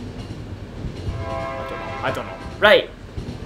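A train rumbles steadily in The Final Station video game, with a low rolling drone under a man's speech and a brief higher squeal or whistle near the end.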